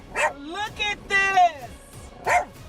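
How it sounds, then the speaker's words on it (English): A dog barks at an approaching alligator on a roadside, giving several loud, close, yelping woofs in quick bursts. "setting the dog off barking as well"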